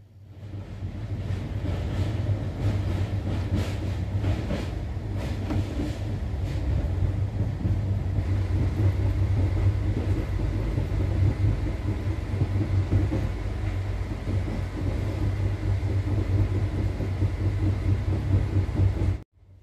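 The Kanchankanya Express rolls through the Dooars of North Bengal as a steady, loud, low rumble of wheels and carriages, with a constant drone and no pauses for the whole stretch.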